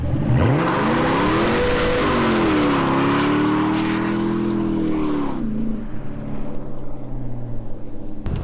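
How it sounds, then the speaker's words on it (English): A Mercedes CLK55 AMG engine revs high in a burnout and holds a loud, strained roar with tire squeal, then drops off into a lower idle rumble; close and continuous. "So after some high revving burnouts"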